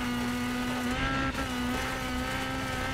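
Rally car engine at full throttle in the WRC 10 video game, a loud steady high-revving drone held throughout with a brief dip near the middle, no talk.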